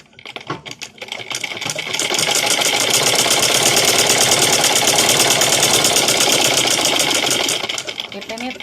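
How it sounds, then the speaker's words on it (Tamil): A sewing machine stitches cloth, starting with a few uneven runs and then settling into a long, loud, fast, steady mechanical whir before slowing to a stop. "இறக்கிட்டு இப்போ வந்து நம்ம வந்து ஸ்டிச் பண்ண போகிறோம்."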